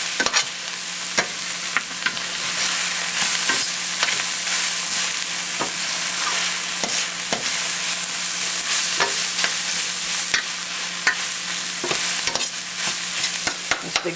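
Lean hamburger meat fries in a pan with a bright, constant sizzle, broken by frequent scraping and tapping as a utensil stirs and chops the meat.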